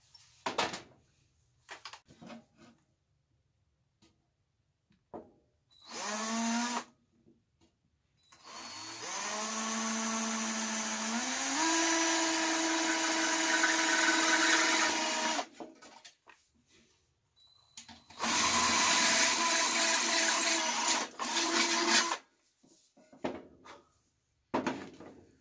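A power drill whines in bursts, spinning up with a rising pitch and running steadily for several seconds at a time, close by, with short pauses between runs.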